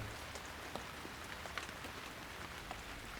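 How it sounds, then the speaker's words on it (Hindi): Soft, steady rainfall hisses evenly, quiet and continuous, with a few faint drips standing out and no voices. "अचानक ही ये बारिश आ गई।"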